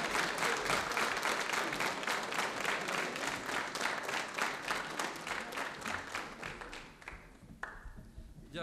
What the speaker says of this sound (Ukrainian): Не жалімо аплодисментів для наших легендарних артистів.